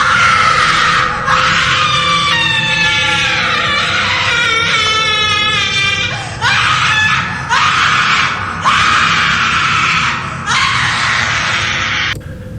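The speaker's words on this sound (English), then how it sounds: "She started burning in fire and screaming very loud" A woman screams loudly and repeatedly in drawn-out, wavering wails, with short breaks between outbursts and a low rumble underneath.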